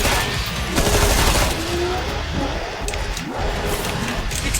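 Rapid, sustained automatic gunfire in Killing Floor 2 during a snowstorm, loud and dense throughout with a continuous roar of bursts and no talk.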